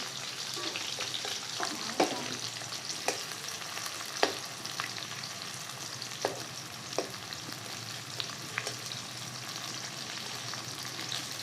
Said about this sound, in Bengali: পেঁয়াজটা একটু লাল লাল করে আমি ভেজে নেবো।